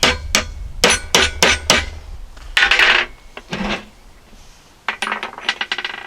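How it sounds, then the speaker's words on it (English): Sharp metallic hammer blows on a steel punch while working on a rusty New Holland 56/256 hay rake gearbox, a quick run of loud close strikes followed by scraping and then another burst of lighter taps. "use a bigger hammer"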